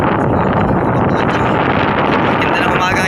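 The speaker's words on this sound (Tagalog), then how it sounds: "Ganda ng umaga ito, kaya lang medyo malakas ang hangin." Strong wind roars steadily across the microphone on a small fishing boat at sea, a loud, constant rushing buffet with no break.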